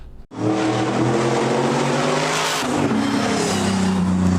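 A loud Shelby GT500 V8 engine in a 1960s Ford Bronco roars and revs hard, holding a deep, throaty growl with a rising pitch, close and without any talking.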